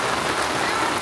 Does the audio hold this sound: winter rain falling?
yes